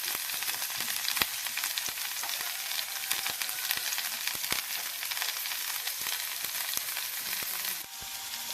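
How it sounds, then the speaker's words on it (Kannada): Garlic sizzles steadily in a hot pan while cooking garlic chicken, a dense continuous crackle with scattered sharp pops throughout, close and even in level, no voices. "ಬೆಳ್ಳುಳ್ಳಿ ಪಾಡ್ದು ಸ್ವಲ್ಪ ಫ್ರೈ ಮಾಡ್ಕೊಡು"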